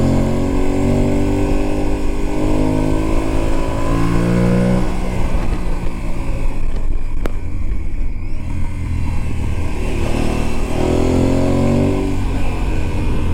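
An Aprilia Tuareg 660 motorcycle engine revs up and down in loud rising and falling sweeps, close by, with a constant rough drone underneath and no talking.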